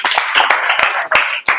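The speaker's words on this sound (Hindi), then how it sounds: "ताली बजाइए इनको लिए।" Students in a chemistry coaching class clap together in a short burst of brisk, loud, close applause with no talking.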